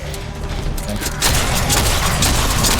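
Rapid gunfire from the pirate action game Davy x Jones, a dense continuous volley that grows louder midway and keeps pounding, mixed with booming game effects and some talk underneath.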